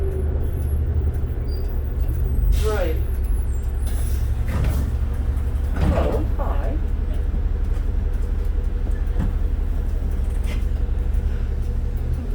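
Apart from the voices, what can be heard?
Cummins diesel engine of New Flyer D40LF bus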